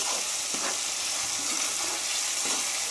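Chopped tomatoes fry in oil for an egg and potato curry, giving an even, continuous sizzle with a few soft stirring knocks.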